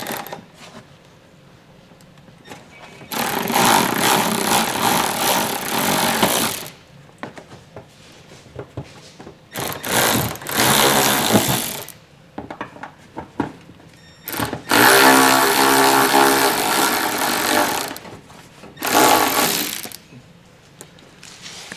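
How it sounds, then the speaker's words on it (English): A 14mm socket works loose plastic nuts on a panel of a 2022 Hyundai Tucson, with bursts of rapid ratcheting clicks separated by pauses and quieter handling sounds, close and loud, no talking. "So you can use a 14mm socket, and what I do is I put a little pressure behind it."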